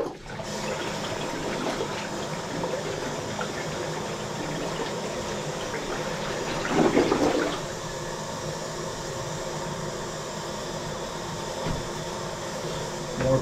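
A clogged, slow-draining toilet is flushed with paper in the bowl, giving a sustained, fairly quiet rush of water that swells briefly midway and then settles into a steady trickle and refill hiss.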